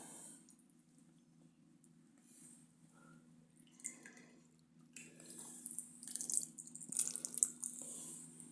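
Tamarind extract water trickles and drips into a bowl, a soft, close liquid pour that grows busier and splashier toward the end over a faint steady background hum.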